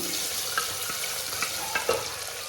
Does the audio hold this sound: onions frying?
yes